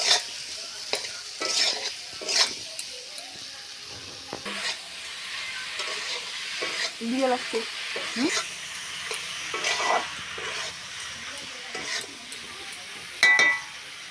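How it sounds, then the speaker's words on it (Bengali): Spiced potatoes cook down in oil in a pan over a village clay stove, giving a steady close sizzle broken by repeated scraping strokes of a spoon as they are stirred. "মশলার আলু ভালো করে কষিয়ে নিতে হবে খুব ভালো করে কষাতে হবে"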